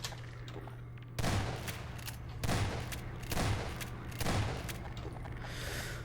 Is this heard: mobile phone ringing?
no